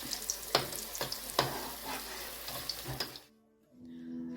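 Ariyatharam sweets are dropped one at a time into hot oil, a close, soft bubbling sizzle with a few sharp pops and clinks, cutting off abruptly before a brief quieter stretch.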